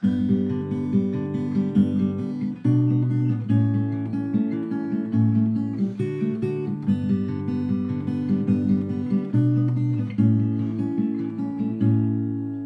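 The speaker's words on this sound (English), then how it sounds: "After you have finished playing your chorus, there is a musical interlude," Picked acoustic guitar carries the instrumental interlude of a song in fingerstyle, with bright melody notes over repeating bass strings, close, even and unbroken, and no talking.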